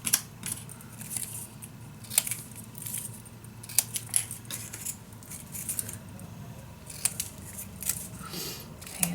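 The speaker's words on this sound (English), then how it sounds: "cutting those nice little edges" Scissors snipping decorative edges on paper for a handmade storage unit craft, a run of quiet irregular clicks and snips over a low background hum, with no talking.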